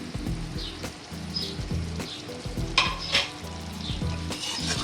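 Chicken karahi sizzles hard in a wok while being stirred, with steady crackling frying noise broken by repeated scraping and clanking strokes of the spatula, close and loud.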